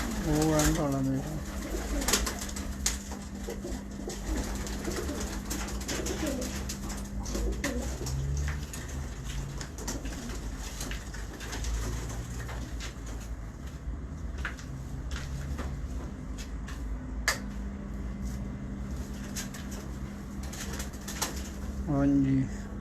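Several pigeons in a fancier's loft coo in low, throaty bursts, strongest at the start and end, over a constant background hum and scattered taps, with someone speaking now and then.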